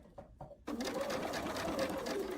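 A sewing machine stitches across a seam while making a poinsettia quilt block. A couple of soft taps come first, then a steady, close whirring run of stitching that continues to the end.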